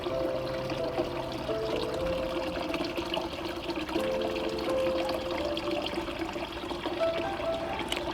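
Water trickling and splashing steadily in a small backyard garden fountain, continuous and close, with no voices.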